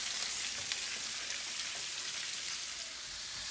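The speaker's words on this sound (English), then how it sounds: "I'm just going to saute these until it gets tender" Peppers, onions and garlic sauté in a pan with a steady, close crackling sizzle that stays even throughout, with no talking.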